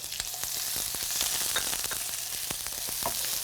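Onion wedges, fresh grated ginger and minced garlic frying in a hot pan give a steady, close sizzle with scattered sharp crackles and pops throughout.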